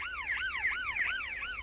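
A toy diecast police Ford Mustang plays its electronic siren, a rapid rising-and-falling wail repeating about four times, close and steady with no talking.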